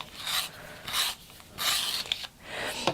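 A brown ochre colouring pencil being sharpened, four bursts of close, dry rasping scraping separated by brief pauses, with no talking.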